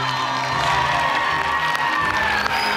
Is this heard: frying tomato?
no